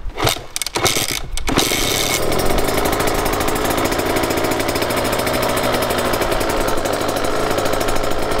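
A KTM motorcycle coughs through a few kick-start strokes, then fires and settles into a loud, steady, rapidly pulsing engine idle that runs on alone, close by.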